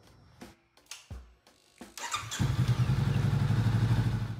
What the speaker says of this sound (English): I need to fire it up, let it idle for a few minutes